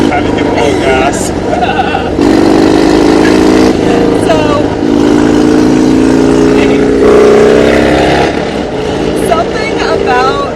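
Ferrari Testarossa flat-twelve engine revving nearby, loud rising and falling blips with sustained pulls, while someone talks over it.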